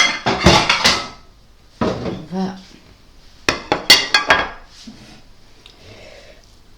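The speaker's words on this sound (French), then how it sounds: "je vais prendre une autre assiette. Ça fait beaucoup de vaisselle, hein," Plates and dishes clink and clatter in a home kitchen while meatballs for Liège-style boulets are prepared, several sharp knocks in short bursts close by, with someone talking in French between them.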